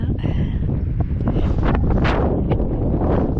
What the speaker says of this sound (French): il y a beaucoup de vent. Il y a des rafales